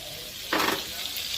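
Dried chillies drop into a frying pan with prawns, bursting into a loud, close sizzle after a quiet moment of low frying, then settling into a steady crackle.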